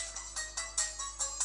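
A phone's timer alarm chimes in quick repeating electronic pulses, about five per second, bright and fairly faint, heard alone over a steady low hum, during Technic pack gameplay.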